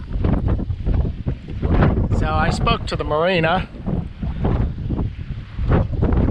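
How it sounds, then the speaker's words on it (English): Strong wind gusting to about 30 blows across a sailboat riding on two anchors just outside a mooring field. It makes a rough, buffeting rumble on the microphone that rises and falls in gusts while someone talks over it. "These winds are up about 30 now,"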